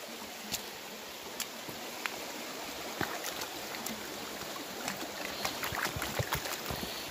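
Creek water flows near an outdoor gold-panning spot with oxidized river gravels, a soft continuous rush broken by occasional small splashes and clicks.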